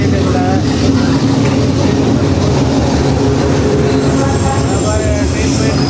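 A train in Vietnam rumbles past cafe seating at close range, loud and continuous, with wheels clattering and squealing on the rails and voices talking over it.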